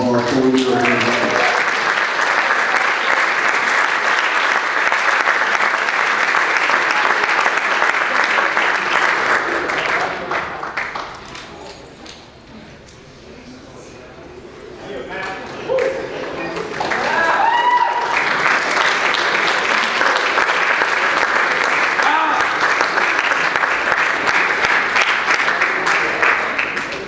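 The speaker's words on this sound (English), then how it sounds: "Let's give a warm round of applause to all of our 4-year-old athletes." An awards-night audience gives a long round of applause for student athletes, loud sustained clapping that dips briefly in the middle before swelling again, with some crowd noise mixed in.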